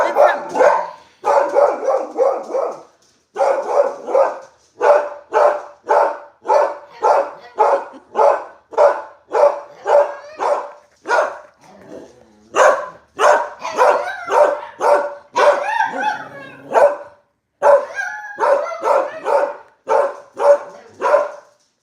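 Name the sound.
dog barking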